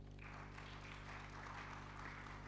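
An audience claps steadily at a World Health Day 2024 event, a dense, even patter of applause heard faintly and without talk.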